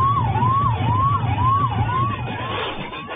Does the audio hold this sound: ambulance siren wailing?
yes